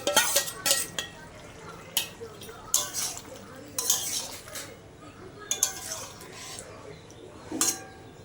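Prawns go into a pan of young jackfruit curry, followed by repeated scraping and clinking of a metal spatula against the pan in bursts over a low simmering sizzle.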